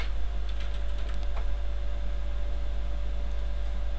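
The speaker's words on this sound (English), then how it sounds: "I will type here" Keys tap on a computer keyboard in a few short bursts of quick presses. The typing sits close and fairly soft beneath a steady electrical hum and background hiss.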